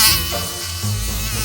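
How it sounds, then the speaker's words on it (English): A mosquito buzzes in a brief, close, steady whine with a slight wavering pitch, heard alone for about a second and a half in a children's sound-guessing game. "a mosquito buzzing"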